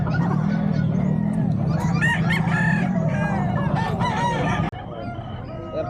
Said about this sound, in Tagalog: Maganda ng mga manok ni Bossing.